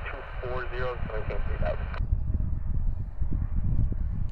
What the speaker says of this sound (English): Looks like one of the SkyQuest aircraft though.